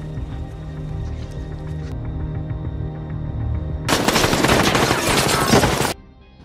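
Sustained machine gun fire erupts in a film shootout between former special forces soldiers and a police team amid traffic-jammed cars, a loud dense burst of about two seconds following a stretch of low rumbling music and effects.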